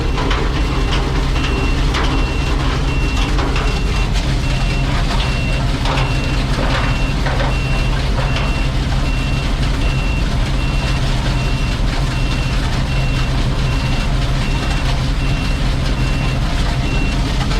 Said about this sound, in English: Sounds like broken glass.